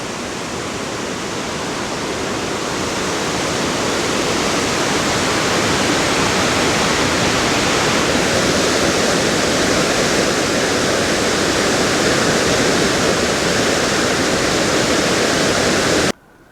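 A waterfall near Helen, Georgia roars as a loud, unbroken rush of falling water that holds steady at close range. It cuts off abruptly at the very end.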